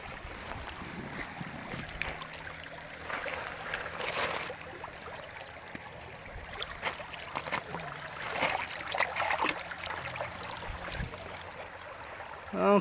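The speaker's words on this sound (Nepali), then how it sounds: "खोलाको कल आवाज बगेको पनि सुन्न सक्नुहुन्छ" The Mechi River flows past a riverside night camp, a steady rushing wash of water mixed with gusts of wind buffeting the microphone, with no voices.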